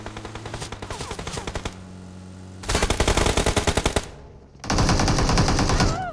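Rapid automatic gunfire from PUBG gameplay, several loud sustained bursts of machine-gun fire separated by brief pauses, with a quieter stretch of weapon noise before the first heavy burst.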